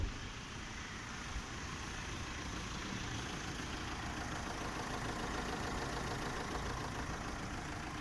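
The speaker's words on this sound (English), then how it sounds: "the engine sounds really smooth and noiseless outside" A Tata Harrier SUV's Fiat-sourced diesel engine idling, heard from outside the vehicle: a steady, even low rumble with a faint mechanical clatter, held at constant level throughout.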